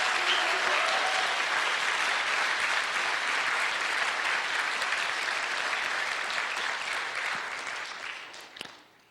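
A large conference audience claps in steady, dense applause that holds strong for several seconds before thinning and trailing off near the end, with no voices over it.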